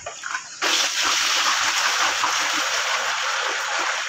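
Mineral water pours steadily into a filter housing to rinse a reverse-osmosis membrane, a loud continuous splashing rush that starts abruptly after a brief quieter moment and runs on alone.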